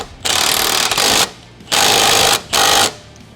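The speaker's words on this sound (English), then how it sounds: "go over and snug all of our bolts" Bolts snugged on the suspension of a 2023 Kawasaki KRX 1000 during a long-travel kit install: three loud buzzing power-tool bursts, each about a second long, separated by short quiet gaps.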